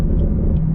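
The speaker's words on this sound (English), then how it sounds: "Do some quick rev matching here from 5th to 4th" A 2023 Chevrolet Camaro LT1 with a six-speed manual drones with a steady low rumble and throb during a rev-matched downshift from fifth to fourth, held briefly without a clear rise in pitch.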